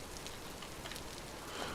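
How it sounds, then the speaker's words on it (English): Steady rain patters in the Vintage Story survival game, a soft even hiss of drops falling on the ground with no voices, faint and constant. "You love the rain. It's soothing."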